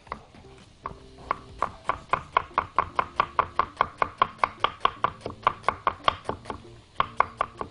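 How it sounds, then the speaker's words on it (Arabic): Onion being chopped into wedges with a knife on a board, a steady run of about twenty-five sharp, evenly spaced chops close by, with a short pause near the start and end and no talking. "ناخد عندنا البصل، اقطع البصل عندي جوانح"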